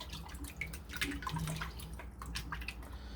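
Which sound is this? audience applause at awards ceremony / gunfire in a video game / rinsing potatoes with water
rinsing potatoes with water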